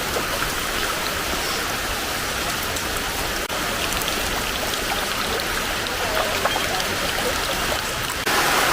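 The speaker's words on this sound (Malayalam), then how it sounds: "നല്ല മഴ തുടങ്ങിയിട്ടുണ്ട്" Heavy rain pours down in a dense, continuous roar, drumming steadily on nearby surfaces with no letup.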